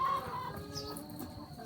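A chicken clucks faintly in a farmyard with a few soft, scattered clucks over a low, busy background murmur.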